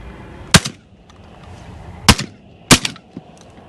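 Three sharp, loud shotgun blasts ring out in an open field during a dove hunt, each with a brief echo, spaced unevenly over a few seconds.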